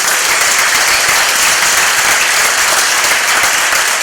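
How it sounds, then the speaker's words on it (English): A live studio audience at a Boston web content management conference gives a dense, loud, continuous round of applause that holds at an even level throughout. "Another nice round of applause for us"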